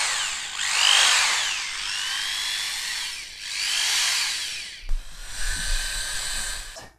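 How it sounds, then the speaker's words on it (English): A common quarter-inch electric hand drill, mounted on a handle and attached to a rope, runs in drilling a well, whining up and down in several long loud bursts with pitch sweeps, then a harsher grinding stretch with knocks. "we use a common hand drill, a quarter drill"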